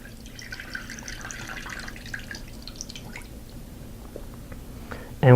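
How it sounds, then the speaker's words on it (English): Water poured off freshly made butter trickles and drips softly in close, small irregular splashes and squishes, ending in a sudden louder gush or clatter at the very end. "And then pour off that water."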